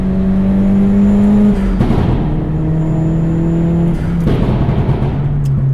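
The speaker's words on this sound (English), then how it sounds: "Pause for tunnel noise." A steady, loud engine drone from a Hyundai Genesis running on E85 driving through a tunnel, with a low sustained hum that swells and shifts as it cruises, echoing in the enclosed space.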